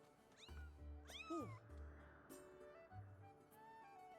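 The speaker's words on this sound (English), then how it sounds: "I don't know if that's a cat. It's making cat noises." A cat-like creature meowing in Skyward Sword HD, several close, rising-and-falling meows in quick succession over a soft game ambience, with a later quieter mew.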